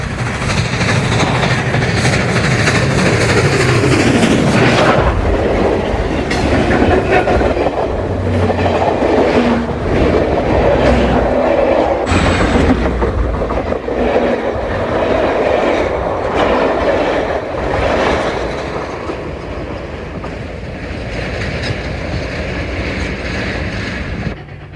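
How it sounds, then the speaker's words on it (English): A train rolls along at track speed in worsening weather, a steady loud rumble with rhythmic clickety-clack of wheels over rail joints and occasional metallic squeals, continuous throughout, heading toward Newnan, Georgia. "The weather worsens as the train makes track speed now"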